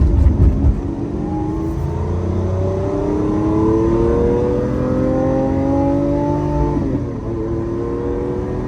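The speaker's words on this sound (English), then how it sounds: "Time to get on the highway in a big V12." A Lamborghini with a big V12 and a single-clutch gearbox accelerating onto a highway, its loud engine note climbing steadily in pitch before a brief dip at a gear change and then pulling on, heard from inside the car.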